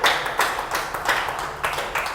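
A church congregation claps for the Lord in rhythmic, evenly spaced bursts of hand claps, fairly close and steady, with no voices over them.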